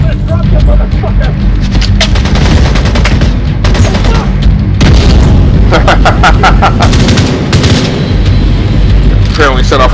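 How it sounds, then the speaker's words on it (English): Loud, dense battlefield noise with bursts of gunfire and booming explosions rolling on without pause, voices faintly mixed in. "Apparently set off a bunch of secondary explosions too"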